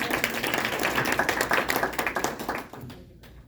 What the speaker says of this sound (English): So round of applause while I turn the mic on.